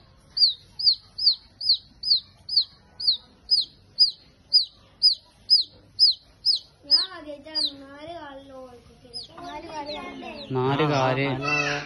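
A young chicken chick, one born with four legs, gives a run of about fourteen evenly spaced high peeps, close and clear. Then voices and other bird calls take over and grow louder toward the end.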